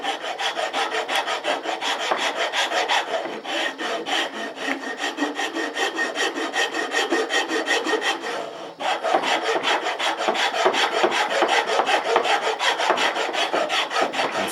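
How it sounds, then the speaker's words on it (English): A very coarse file squares off the front of a metal part on a swivel breech rifle, grating in rapid, continuous back-and-forth strokes, loud and close, with a brief pause partway through. "I'm going to use a very coarse file, and it has a good coarse edge, which we can square that front off with"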